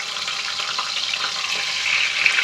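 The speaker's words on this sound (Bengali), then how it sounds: "তেলটি গরম হলে এর মধ্যে আমি মাছের মাথা দিয়ে দিলাম।" Fish head frying in hot oil in an iron wok, a loud, dense, continuous sizzle and crackle up close, with no one speaking.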